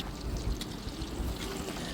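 Bitter gourd pieces, drained of water, deep frying in hot oil, giving a steady low sizzling and bubbling hiss that stays even and close throughout, with no voices.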